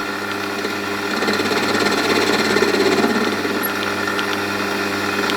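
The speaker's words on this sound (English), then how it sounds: "The aluminium is machining very well." An aluminium pulley turns on a lathe in a 3-jaw chuck during home metal casting work, producing a steady motor hum with a faint cutting whine that swells slightly midway, continuous and close.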